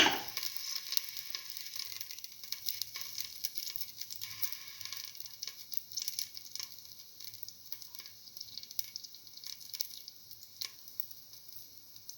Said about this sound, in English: and the fennel seeds. And let them cook.